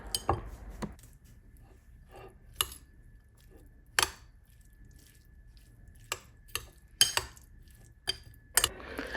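A spoon stirs cubes with mayonnaise and tomato sauce in a bowl, giving sparse, quiet clinks and soft wet scrapes at irregular intervals.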